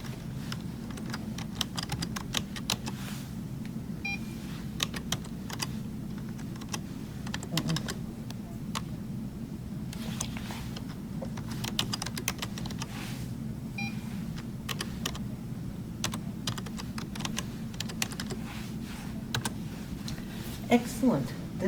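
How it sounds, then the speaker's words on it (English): Typing on a computer keyboard at a login screen, light irregular key clicks throughout, with quiet faint beeps and a low background hum. "You will type that in exactly as it appears"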